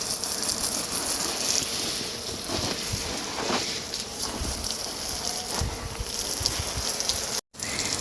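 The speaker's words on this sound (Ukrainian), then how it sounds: "Ось так заливаємо, щоб прям аж вода стояла" Water is poured onto garden soil until it pools, gushing and splashing steadily and close by, a continuous broadband wash with no voices.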